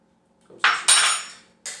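A spoon scraping and knocking against a bowl while stirring a ground spice mix with coriander, three short sharp clinks and scrapes in quick succession, close up with no voices.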